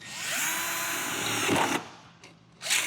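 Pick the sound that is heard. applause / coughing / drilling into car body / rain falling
drilling into car body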